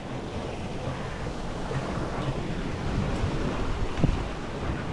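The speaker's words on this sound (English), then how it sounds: "we've got good wind now" Steady wind and ocean waves at sea aboard a sailboat with about 15 knots on the aft quarter, a constant broad rushing wash with occasional louder surges and wind buffeting the microphone.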